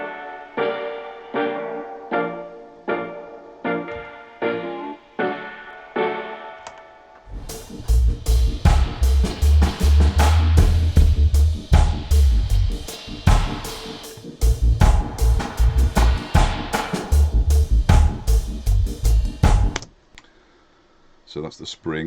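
Drum hits with a springy, metallic spring reverb whose tone shifts between thin and full as high-pass and low-pass filtering changes; a drum groove plays, then it drops to near silence.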